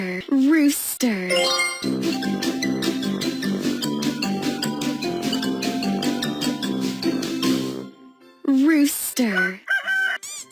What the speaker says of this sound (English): Rooster, rooster.